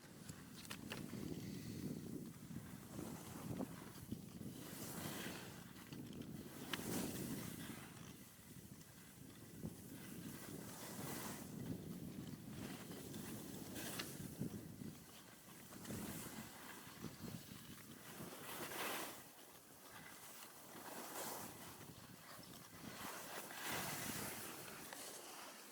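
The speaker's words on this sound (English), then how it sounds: "It's very, very windy." Strong, gusty wind of about 30 mph buffets a microphone outdoors on a ski slope, producing continuous low rumbling that swells and falls in repeated gusts throughout, loud and close with no speech.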